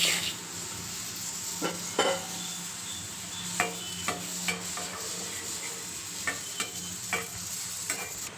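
Mustard seeds and cumin sizzle in a pan for star fruit pickle, a steady soft frying hiss with scattered crackles and pops and occasional clinks of a utensil against the pan, no talking.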